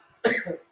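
A single short, harsh cough, close and fairly loud, in an otherwise quiet moment.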